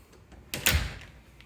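A house's front door opening: a short latch click followed by a louder thump and rustle, brief and close, then quiet.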